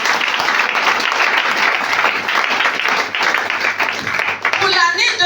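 A church congregation breaks into sustained, loud applause, dense and even clapping filling the whole stretch, with a voice rising briefly near the end.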